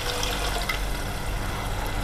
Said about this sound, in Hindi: अच्छा पानी ऐड कर देंगे।